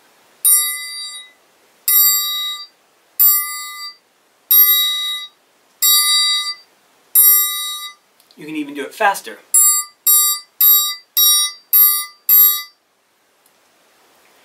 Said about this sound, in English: we want to go back and forth between playing an open sound and then muting it.